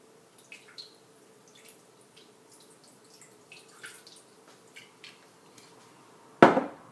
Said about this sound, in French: On y rajoute environ 10 centilitres de vinaigre de vin.